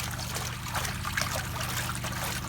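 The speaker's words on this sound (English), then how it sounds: "It is a complete submersible pump, so make sure you got it all the way to the bottom" A submersible pump sits at the bottom of a 100-gallon tank for a backyard koi pond, sending out a steady close trickle and burble of moving water with a low hum beneath it throughout.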